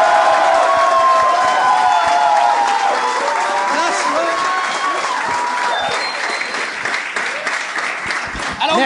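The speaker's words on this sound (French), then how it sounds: "J'aimerais qu'on donne une bonne main d'applaudissement au premier invité de ce soir, le seul, l'unique, Monsieur François Bellefeuille." A studio audience breaks into loud, sustained applause and cheering to welcome a guest on a talk show, dense clapping that thins slightly toward the end, with a voice speaking over it.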